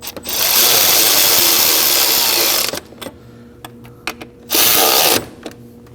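A power tool runs in two loud whirring bursts to snug the intake manifold bolts on a 2011-2016 Kia Optima, with small clicks and clanks in the pauses between.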